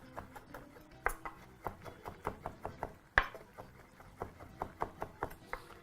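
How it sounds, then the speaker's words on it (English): A sharp knife chops pumpkin leaves finely on a chopping board, a quick run of crisp, evenly spaced taps against the board with one louder knock partway through, close and clear. "using a sharp knife, just proceed to chop that finely"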